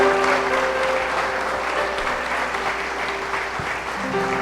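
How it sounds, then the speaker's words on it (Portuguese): A church congregation applauds together, a continuous wash of clapping held at a loud, even level with a sustained musical tone lingering underneath. "dá uma salva de palmas ao Senhor Jesus Cristo"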